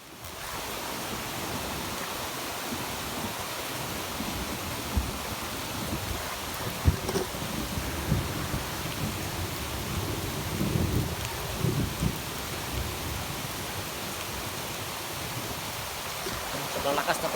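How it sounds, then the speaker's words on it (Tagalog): Heavy rain pours outdoors in a dense, unbroken roar with gusty rumbles close to the microphone and a few sharp knocks, and no voices. "Sobrang lakas na po ng ulan, no? Grabe yung lakas ng ulan."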